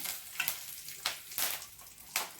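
Two dried red chilies sizzle and crackle in hot frying oil for sambar, a bright steady frying hiss broken by several sharp pops and spoon stirs, close and clear with no talking.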